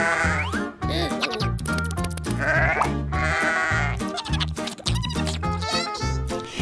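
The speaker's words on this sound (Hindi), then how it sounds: "बकरी कहती है बा।" A goat on a farm, being fed apples, bleats repeatedly in close, loud calls over a dense background of music, with no one speaking.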